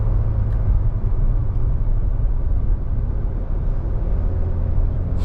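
A 2018 Subaru Impreza Limited's engine hums in a low, steady rumble from inside the car while driving, with road noise underneath and no talk.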